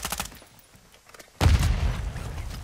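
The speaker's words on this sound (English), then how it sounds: "Whoa, they threw a nade." A thrown grenade explodes in Call of Duty DMZ, a sudden loud boom with a rumbling tail, preceded by quieter rapid gunfire.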